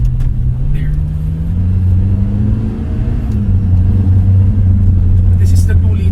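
A 2024 Lotus Emira First Edition with a 2-liter turbo AMG engine rumbles from inside the cabin, its engine note rising and falling steadily while people talk over it.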